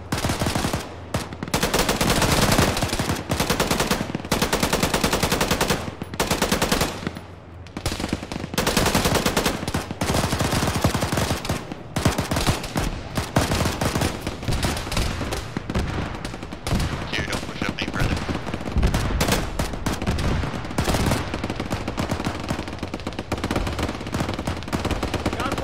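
Sustained machine gun fire in an Arma military video game battle, with dense, loud bursts and rapid automatic fire continuing almost without pause, mixed with scattered gunshots and faint radio-style voices underneath.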